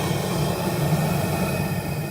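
A propane burner roars loudly with its valve opened wide while it boils maple sap for syrup. The rushing, broadband blast is steady and close, with no talk over it.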